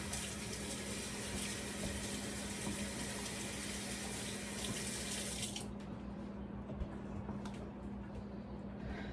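Water runs steadily from a tap into a sink during handwashing, a broadband rushing stream that cuts off partway through, leaving a quieter room.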